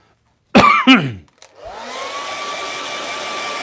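A couple of short knocks, then a hair dryer switches on and runs with a steady, loud whirring hum and whine.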